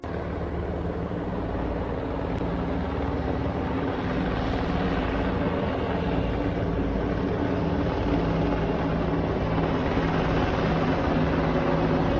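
A continuous, loud helicopter drone with a steady rotor hum and engine whine, unchanging and close for the whole stretch.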